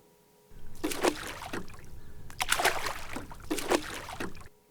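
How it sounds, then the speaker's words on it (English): A canoe is paddled through water, with repeated paddle strokes heard as rhythmic splashes and sloshing, each followed by a gentle trickle, close and clear against a quiet background. "Paddling a canoe."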